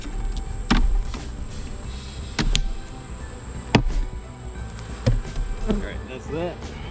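Honeybees buzz continuously around an open hive during a July inspection, a close, steady drone broken by several sharp knocks and clatters of hive equipment; a person speaks briefly.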